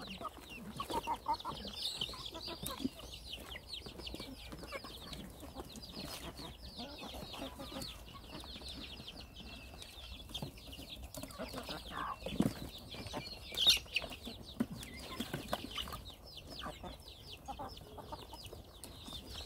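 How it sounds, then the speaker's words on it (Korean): A flock of Korean native chickens and Araucana chickens clucking steadily in a farmyard, many overlapping soft clucks and chirps with occasional sharper calls, continuous and moderately distant. "이제 토종닭하고 청계닭 병아리가 되겠습니다"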